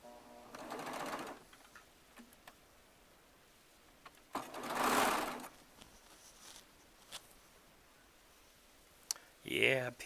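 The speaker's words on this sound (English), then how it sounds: "pieces on my Baby Lock Triumph Serger" Baby Lock Triumph serger running in three short bursts of fast whirring stitching, separated by quiet gaps with faint clicks and handling noises, close up.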